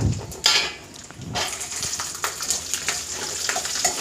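Garlic hitting hot oil in a pan already holding chillies, with a crackling sizzle that rises after a couple of sharp drops and stays moderate amid light utensil clinks.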